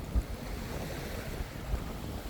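Sea waves wash onto Anza Beach in Okinawa as a large boat passes offshore. A steady, rushing surf carries low thumps of breaking water, mixed with gusty wind buffeting the microphone, and no voices.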